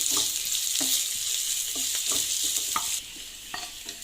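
Chopped shallots frying in a pan, a bright continuous sizzle with a spatula tapping and scraping several times, close, the sizzle dropping quieter near the end.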